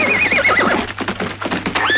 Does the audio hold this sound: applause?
no